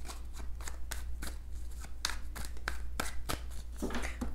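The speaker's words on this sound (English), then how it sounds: "Let's go ahead and give these cards a few shuffles" Tarot cards shuffled by hand in a quiet room, with a steady run of crisp riffling snaps and soft papery slides, some a dozen distinct flicks over several seconds.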